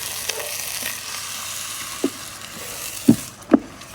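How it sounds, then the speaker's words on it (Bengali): Polao rice being stir-fried with ghee in a pan, a soft continuous sizzle with a few sharp scraping stirs toward the end. "ভালো করে নেড়ে চেড়ে ভেজে নেব"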